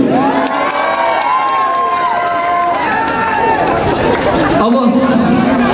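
A large festival concert crowd roars and cheers continuously, loud and close, with shouting and babble layered over a sustained wash of noise and a few rising whoops.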